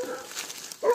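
A hunting dog on an armadillo hunt gives a single short bark near the end, faint and somewhat distant, after a brief stretch of quiet outdoor background.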